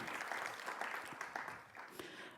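An audience at a Global Leadership Academy graduation ceremony applauds with dense, continuous clapping at moderate distance that tapers slightly toward the end.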